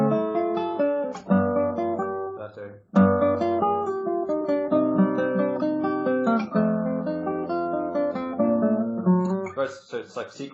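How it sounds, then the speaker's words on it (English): An episode section of a fugue, built from sequences and arpeggios, plays as continuous, flowing polyphonic music for about ten seconds, with brief dips between phrases and no talking. "So in this fugue, the episode sounds like this."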